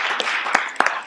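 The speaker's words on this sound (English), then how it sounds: "So let's give her a round of applause." A round of applause at a college athletics symposium, honoring a female athlete from the Big Sky Conference; a dense, steady wash of many hands clapping with a few sharper individual claps standing out.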